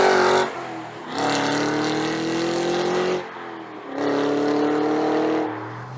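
A 2023 Cadillac CT5-V Blackwing's exhaust booms loudly while driving, echoing off big rock slabs of the Canadian Shield, with two long rising pulls through the gears separated by brief lifts and shifts.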